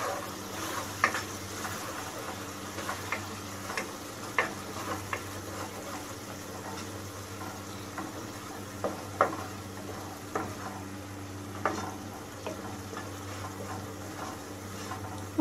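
Three spoonfuls of tomato paste sizzle softly in a pan while a spoon stirs and scrapes it at intervals, the frying hiss low and steady throughout.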